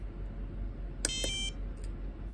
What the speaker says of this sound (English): press the test button to get that beep